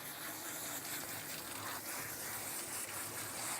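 Water poured steadily over a Bergamasco dog's coat during a bath rinse, a continuous soft gushing splash close by with no talking.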